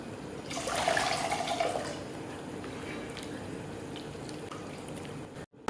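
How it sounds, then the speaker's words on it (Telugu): Tamarind pulp poured into simmering dal with coriander and water, a liquid splash and trickle that swells early, runs for about a second, then settles into a low bubbling background. "దీంట్లో ఇంకా చింతపండు గుజ్జు కూడా పోసేసుకుంటాను."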